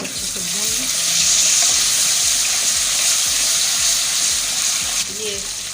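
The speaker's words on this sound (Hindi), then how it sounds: "इसको अच्छे से भून लें।" Ginger garlic paste fries in a pan, a steady close hiss and sizzle with occasional stirring scrapes, while someone talks over it.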